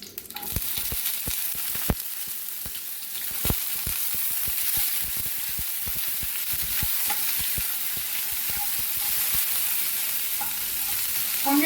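Onion is tossed into a hot pan and fries with a soft, steady sizzle, punctuated by sharp clicks and scrapes of a spatula against the metal, close by and with no talking.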